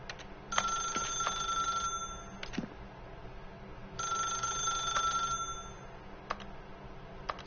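In the video game The Stanley Parable, a telephone rings with two long, bright electronic trills separated by a pause, clear and fairly close, with no talking.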